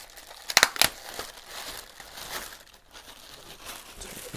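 Dayton Audio MK402 speakers are pulled from their plastic wrap, with a cluster of sharp, loud crinkles early on followed by softer, irregular rustling close by.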